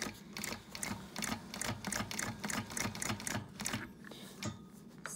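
A long arm quilting machine stitches back and forth while basting a quilt, its needle punching out a steady, rapid mechanical rhythm close by with no other sound.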